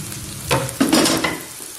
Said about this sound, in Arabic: هننزل بالطماطم وهنديلهم تشويحه مع بعض